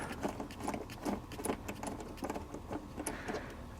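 Ratchet driving a fastener home on a GM OBS Chevy/GMC truck during a cruise control repair, a run of quick metallic clicks in uneven bursts, close and steady with no talking.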